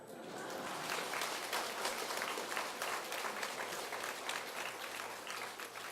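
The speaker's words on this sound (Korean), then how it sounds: "제대로 박수 치소" Congregation applauding during a church testimony gathering, a dense, even roar of clapping hands that holds steady throughout, heard at a moderate distance and fairly quiet overall.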